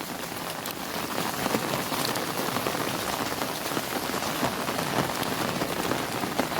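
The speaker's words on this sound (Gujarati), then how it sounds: "જોઈ લો આ છે મિત્રો વરસાદ વરસાદ ને વરસાદ" A heavy, unbroken downpour falls on a Gujarat village, a dense, even roar of rain drumming on surfaces with no pauses and no voices.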